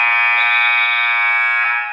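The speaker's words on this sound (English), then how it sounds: "the buzzer sounds" A loud, sustained electronic buzzer blares for nearly two seconds, marking the end of a period in a high school wrestling championship match, steady and harsh with no talk over it.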